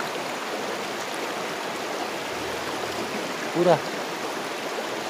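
The swollen, flooded Torsha river surging by a Chhath puja ghat makes a constant loud roar of rushing water, and someone briefly speaks over it.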